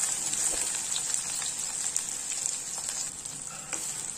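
Green chilies and eggplant frying in oil in a pan, a steady close sizzle with scattered crackles and pops running throughout, no voices.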